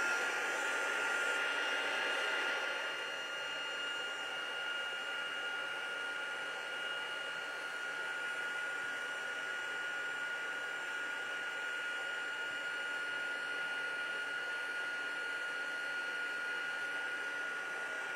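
A heat gun blows a steady, even hiss and whir while melting embossing powder, slightly louder for the first couple of seconds, then holding constant and fairly faint with no talking.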